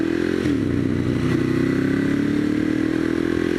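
A Ducati M1100 Evo motorcycle ridden on the road in Singapore, its engine droning loud and steady with a brief shift in pitch and a slight rev, wind and road noise underneath, no talking.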